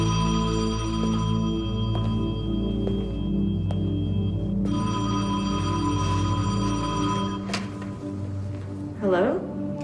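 A telephone rings continuously, its tone steady and close and heavily layered within a loud, dense, sustained tonal background, with a brief rise in level near the end.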